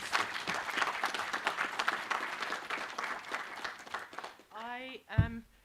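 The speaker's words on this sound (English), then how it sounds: "Ladies and gentlemen, please, a round of applause." An audience claps steadily under a speaking voice at a professorial inauguration ceremony, then the clapping fades and the voice continues alone.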